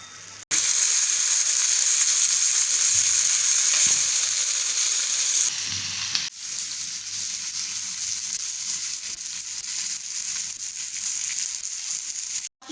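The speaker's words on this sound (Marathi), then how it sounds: "दुसरी बाजूही आपल्याला 5 मिनिटं मीडियम गॅसवरती फ्राय करून घ्यायचं आहे।" Pomfret coated in rava fries on medium gas with a steady, loud, continuous sizzle and hiss, a brief dip midway, with no talking.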